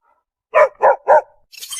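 Dog barking three times in quick succession, loud and close, followed by a short breathy rustle; no speech.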